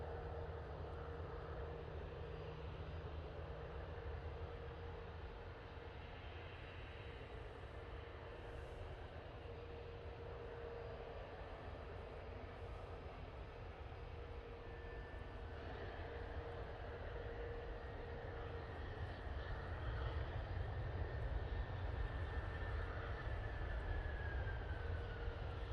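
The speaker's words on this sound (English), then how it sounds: "Aer Lingus going heavy on the reverses for a few seconds there." Aer Lingus airliner landing with reverse thrust, a steady distant roar of engine noise rising slightly toward the end, continuous and without voices.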